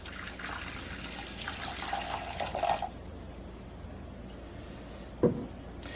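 Water poured into a pot for making sugar syrup gives a steady splashing trickle for a few seconds, then stops, followed by a single soft knock near the end.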